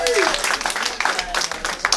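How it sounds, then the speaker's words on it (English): Audience at an LA comedy show applauding, a dense patter of clapping mixed with voices, cheers and chatter from the crowd. "Give yourself a round of applause."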